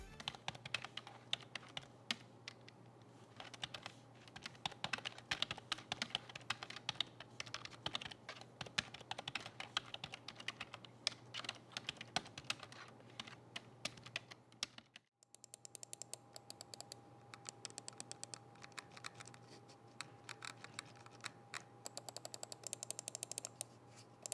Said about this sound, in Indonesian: demo penggunaan keyboard dan juga mouse dari PC gaming Acer Nitro 50-650